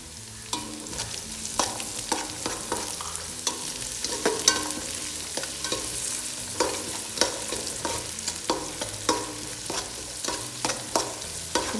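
Capsicum stir-fries in a hot pan with a steady sizzle, while a spatula scrapes and clacks against the pan in a regular rhythm close by, and no one speaks.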